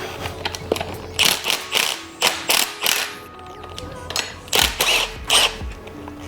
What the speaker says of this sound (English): Or if you've got a ratchet gun, that also works.